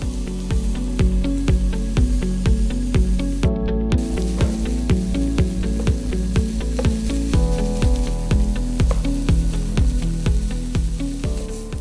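Onions sautéing in a pan give a loud, steady sizzle with rhythmic stirring scrapes throughout, close and alone with no talk.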